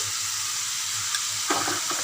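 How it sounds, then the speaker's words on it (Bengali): Fried cauliflower dropped into a hot pan of spiced, simmering masala, giving a steady close sizzle with a few stirring scrapes near the end. "এবার আমি এর মধ্যে ভাজা ফুলকপিগুলো দিলাম"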